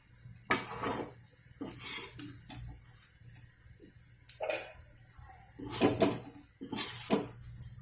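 A spoon stirs fried potato pieces with poppy seeds in a pan, giving intermittent scraping and clattering bursts of metal against the pan, separated by quiet pauses.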